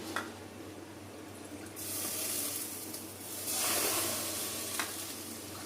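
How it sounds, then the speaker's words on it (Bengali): Liquid milk is poured into a pot, making a soft, steady hiss and rush in two longer spells over faint background noise. "আমি 2 কাপ দুধ দেব, লিকুইড দুধ।"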